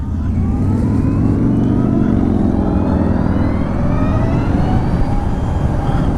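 Harley-Davidson LiveWire ONE electric motorcycle riding at speed, a continuous loud roar of wind and road with a faint rising motor whine sweeping upward underneath, no talking.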